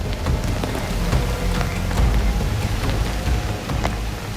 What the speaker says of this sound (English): Wang De is in the fire rain for almost a whole hour.